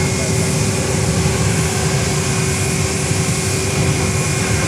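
A Boeing 737-700 airliner at Fort Lauderdale airport gives a steady, broad engine roar with a faint tonal whine running through it, constant and fairly loud from start to finish.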